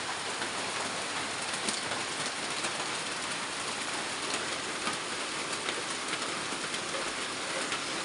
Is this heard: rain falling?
yes